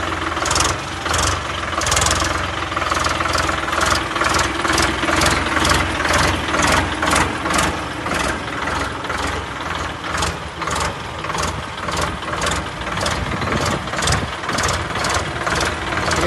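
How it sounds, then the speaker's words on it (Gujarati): A VST Shakti 50 HP tractor engine runs at a steady idle, a loud close diesel throb with rapid regular pulsing that carries on evenly with no voices. "ટ્રેક્ટર અંજુમભાઈ શરૂ કરી દીધું છે"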